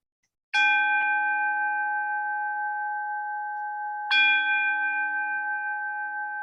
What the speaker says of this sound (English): as we listen to the kancho, or tolling of the bell.